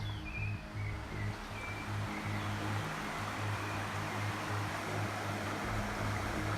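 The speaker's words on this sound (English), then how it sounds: "This is where a little side stream flows into the Soluble River" Continuous rush of a small side stream pouring into a river in mountain country, a steady close wash of water with a faint low hum underneath and no voices.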